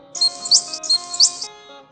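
Small birds in a flock chirp as a sound effect: two bright, rapid twittering bursts sound close and clear over a quiet sustained musical bed.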